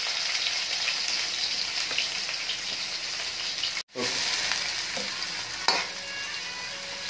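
Onions fry in hot oil with cumin seeds, a steady close sizzle broken by a brief gap midway and a few sharp clinks of a spoon stirring against the pan.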